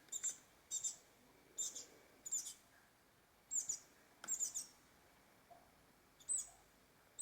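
A small pet bird chirps while being fed, giving quick, high, faint chirps in short bursts scattered irregularly over a quiet indoor background.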